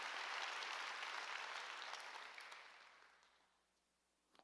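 Applause from a church congregation during a sermon, a soft wash of many hands clapping that gradually fades away to near silence.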